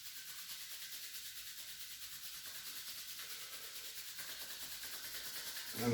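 Palms rubbing briskly together to build heat during a seated chi kung warm-up, a steady continuous hiss that stays even throughout with no talking.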